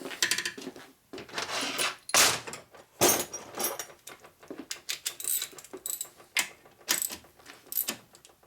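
Ratchet tightening screws during the rebuild of a Harley-Davidson XL Sportster engine converted to a 650 single for land speed racing, heard as a string of irregular clicking and mechanical rattling bursts at close range with no talk.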